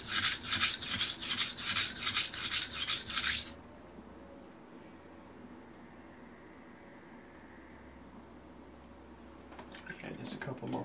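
Knife blade sharpened on a Shapton Pro whetstone, a run of rapid rhythmic rasping strokes close and loud, then a pause with faint background noise before strokes resume at the end.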